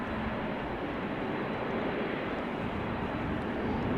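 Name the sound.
Saudia Boeing 787-9 Dreamliner arriving at Schiphol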